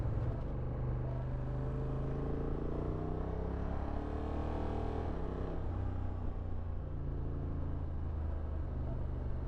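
A Honda NT 1100 motorcycle engine rumbles steadily up close, its low drone swelling and dipping as the throttle is worked, with a sharper pitch change near the middle.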